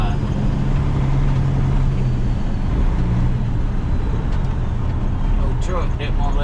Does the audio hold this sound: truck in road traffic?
yes